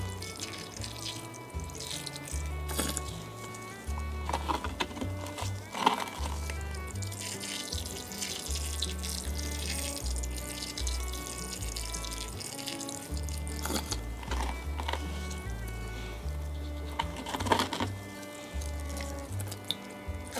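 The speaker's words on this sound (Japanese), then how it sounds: "しっかりと水をあげていく。" Water poured onto a freshly repotted peperomia plant, an ongoing close splashing and trickling into soil with intermittent drips and squishy bursts, no talking.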